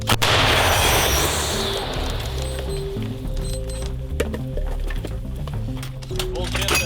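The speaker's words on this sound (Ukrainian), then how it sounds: "Постріл!" A loud, sharp artillery gun blast at the start, followed by a long rumbling decay and scattered background noise, in Toretsk during fighting.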